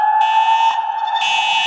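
An electronic fire alarm in a Roblox mansion sounds close and loud: a steady tonal horn with a harsh buzzing overtone that cuts out briefly and then resumes.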